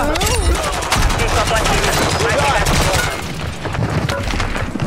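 Rapid automatic gunfire from a Call of Duty Warzone 2.0 match, loud and dense bursts filling the whole stretch with sharp overlapping shots and game effects.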